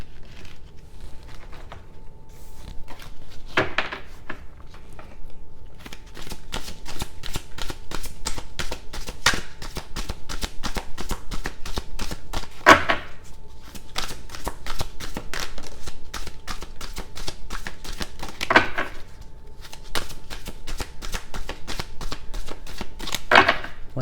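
Oracle cards being shuffled by hand: a steady run of rapid papery riffles and flutters, close up, with a few sharper snaps as the deck is bridged, continuing without pause and with no talking.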